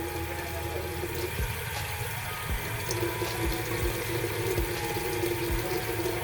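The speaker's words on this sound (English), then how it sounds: "I don't want to turn off the water, it just got warm" A tap runs steadily in a sink, the water stream a constant broadband hiss at close range with a few small splashes and clunks, no voices.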